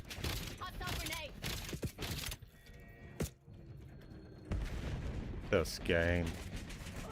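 Gunfire in a Call of Duty match, with sharp shots and bursts scattered between stretches of speech and game chatter, moderately close but not dominant.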